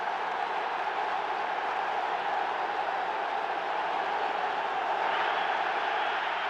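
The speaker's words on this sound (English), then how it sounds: "The crowd is extremely loud." A packed stadium crowd roars loudly and steadily at the 1985 NFC Championship between the Los Angeles Rams and Chicago Bears, a continuous wash of cheering that swells slightly near the end.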